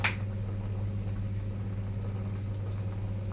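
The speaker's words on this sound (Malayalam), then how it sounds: "മീൻകറി എല്ലാതും തിളച്ച് നല്ല കുറുക്കി നല്ല പരുവായിട്ടുണ്ട്" Fish curry simmering in a pot, a steady low bubbling and hiss of boiling liquid, close and continuous after a brief sharp click at the start.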